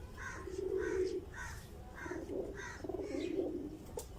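Pigeons coo in low, repeated rolling phrases on an open rooftop loft with double netting, the calls steady and fairly close against a faint background.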